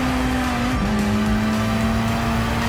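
Hot Wheels die-cast cars race down a track under a dense, steady roar of race-car engine noise with a tire-squeal tone, loud and continuous.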